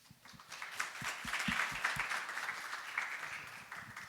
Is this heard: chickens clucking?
no